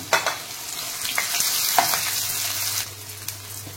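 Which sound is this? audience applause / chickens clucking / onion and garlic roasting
onion and garlic roasting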